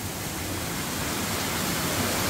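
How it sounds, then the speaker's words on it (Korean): A mossy waterfall in Myungji valley pours in a steady, dense rush of white water, close and loud, with no voices. "이끼 가득 있는데 여기도 폭포예요."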